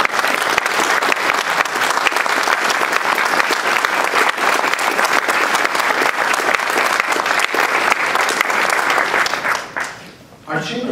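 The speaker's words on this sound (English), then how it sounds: "and let's give them a round of applause." Sustained, loud applause from the audience at a city State of the City speech as city employees rise, a dense roar of many hands clapping that fades out near the end.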